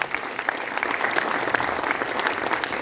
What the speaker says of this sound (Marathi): त्याबद्दल त्यांच्यासाठी एक जोरदार टाळ्या होत्या.